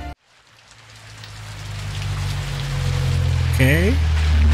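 Steady rain patters and hisses in the video game Modern Warfare 2, growing louder over a few seconds, with a low rumble beneath and a brief electronic tone near the end.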